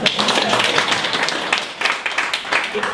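Audience at an inspirational speaking forum breaks into dense, steady applause, many hands clapping together at close range, with some voices audible under the clapping.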